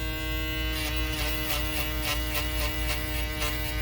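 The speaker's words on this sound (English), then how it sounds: "shaver." A close electric shaver buzzes steadily with a slight rhythmic pulsing during a home self-haircut, continuous and alone with no talking.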